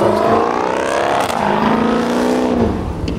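A Dodge Charger engine at a car show revs and rises in pitch with a throaty roar, loud and close against outdoor crowd ambience.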